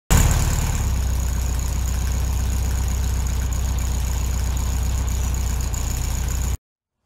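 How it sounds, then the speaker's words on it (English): A 1967 VW Beetle engine runs steadily as the car is turned around, a continuous close, loud idling drone with a persistent high whine, then cutting off abruptly. "I got to turn the car around so I can get to the back of it."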